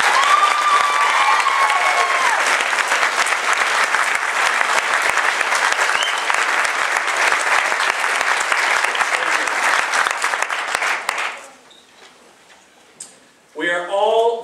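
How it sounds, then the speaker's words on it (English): A graduation ceremony audience gives sustained, dense applause for staff and faculty, steady and fairly loud for about eleven seconds before dying away. A voice then begins speaking over the quiet. "Let's give these folks a round of applause."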